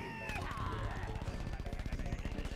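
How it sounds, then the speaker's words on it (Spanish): Rapid machine-gun style gunfire in Plants vs Zombies: Garden Warfare 2, a steady stream of close, repeated shots rattling for a couple of seconds after a brief effect sound. "Es que me están disparando, no sé ni desde dónde"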